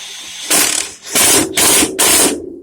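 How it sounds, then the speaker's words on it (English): Three loud, sharp bursts of hammering rattle from a 1/2 inch impact wrench running in a 10 millimeter bolt, each lasting about half a second with brief pauses between. "Run that in with a 1/2 inch impact."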